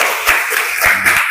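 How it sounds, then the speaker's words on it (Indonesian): Applause from an audience at a teaching practice assessment, a steady clatter of hands that swells in a few bursts, fairly loud and close, with a faint voice underneath. "tepuk tangan dulu"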